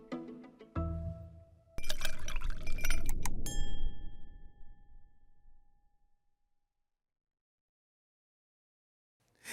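Glasses clinking in a toast at the close of a chat about bourbon, a few sharp bright chinks followed by a long ringing glass tone that fades into silence.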